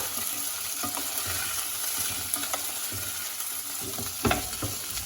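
Bindanu (okra) is stirred while frying in a pan, producing a soft, continuous sizzle with intermittent spoon scrapes and taps, fairly quiet and close, without speech.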